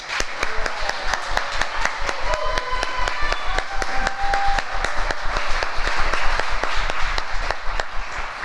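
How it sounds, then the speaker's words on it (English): An audience claps through a steady round of applause at a National Honor Society induction and awards ceremony, dense and even throughout, with a few sharp nearby claps standing out over the crowd. "so can we just give her a round of applause?"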